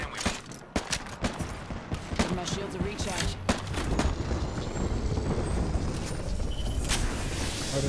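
Video game gunfire rings out in sharp, loud cracks and rapid bursts at the start, then gives way to a sustained rumbling battle roar with a faint high whine overhead.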